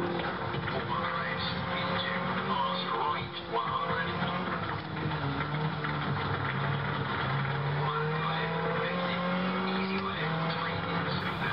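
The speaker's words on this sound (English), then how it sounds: "it's so darn fun watching our test driver slide his way around Richard Burns' rally" Rally car in Richard Burns Rally sliding around a stage on a sim racing wheel, a continuous loud engine drone with shifting pitch and tyre scrub, with someone talking over it.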